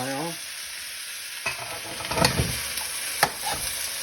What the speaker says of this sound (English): That's why you hear a lot of sizzle.